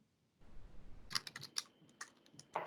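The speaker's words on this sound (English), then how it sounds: "I hear typing" Someone types on a computer keyboard during an online OSHA training session, a quiet run of irregular clicking keystrokes picking up after a pause, faint and alone with no talk.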